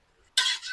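A heavy metal wok set down on a stove burner, a short clattering metallic clank after a moment of quiet, ringing briefly with a second scrape before fading.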